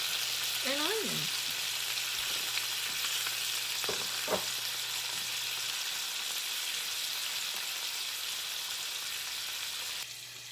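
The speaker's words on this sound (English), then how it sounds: "while that ham's frying" Ham frying in a skillet for a weeknight dinner with potatoes, cabbage and onions, giving a steady close sizzle throughout, with a few brief clinks of a utensil and a low hum underneath.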